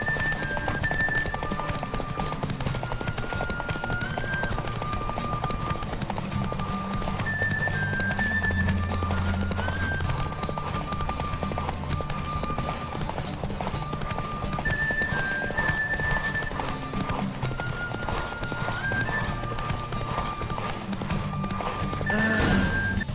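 Rapid hoofbeats of horses galloping in a race in The Witcher 3, a steady clip-clop rhythm over game music with tonal melody lines throughout.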